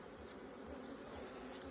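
Dark, locally adapted honey bees buzz at an open beehive with no queen present, a steady, soft, continuous hum of many insects with no talking.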